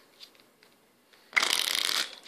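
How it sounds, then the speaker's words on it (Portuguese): A deck of playing cards being shuffled for a magic trick, a short burst of fast riffling that follows a few faint card taps, close and crisp with no voices. "Eu vou embaralhar esse baralho"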